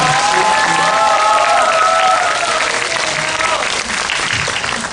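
Steady audience applause with some crowd noise at a Korean movie talk event for the film Ansisung, loud and continuous, thinning slightly toward the end.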